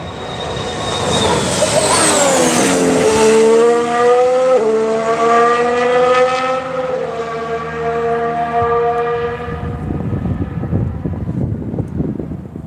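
A Mercedes Formula 1 car passing during testing at Barcelona, its engine note rising loud and close, then stepping down through downshifts as it pulls away and fades into the distance.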